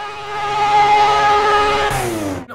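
Mad Mike's 1,000-plus horsepower MX-5 in Project Cars pulls gently off the line, its engine droning loud and steady with a buzzy tone before the pitch drops and cuts away.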